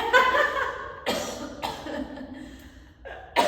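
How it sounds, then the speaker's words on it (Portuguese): A woman coughs several times in separate bursts, close and fairly loud, each one fading quickly into a quiet room. "Eu preciso tossir."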